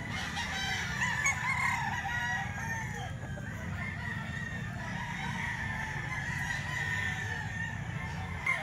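A rooster for sale at a Grotto tiangge market crows amid steady crowd and market noise, its calls carrying over the constant background bustle with no clear talk.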